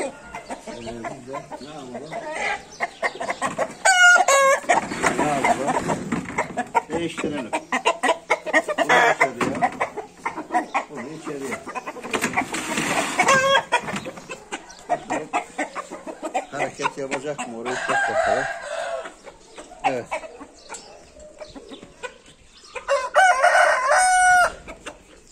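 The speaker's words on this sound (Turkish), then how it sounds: "Evet, bizim bu horozumuz tavukları orada gördü." A rooster crows loudly and repeatedly between bouts of clucking from farm fowl sunning outdoors, close by, with someone talking over much of it.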